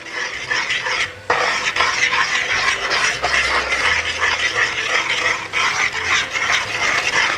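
A fork mixes flour into eggs in a well of flour to make homemade pasta dough. Steady, close scraping and stirring continues throughout, with soft tapping and no talking.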